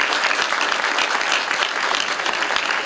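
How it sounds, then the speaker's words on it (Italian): Loud, dense audience applause fills the space steadily from start to finish, a continuous wash of many hands clapping with no pauses or talk. "facciamo un applauso fortissimo, eh?"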